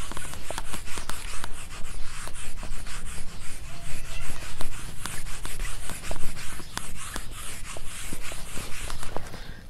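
Writing is rubbed off a classroom board in quick, continuous scrubbing strokes, loud and near, with rhythmic scraping throughout.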